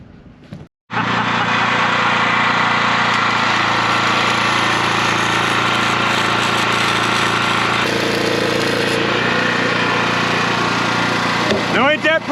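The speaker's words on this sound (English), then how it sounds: "Let's weld it up." A generator-powered welder runs continuously while welding a metal rail on a boat, a loud, steady buzzing crackle over the constant engine drone of the generator.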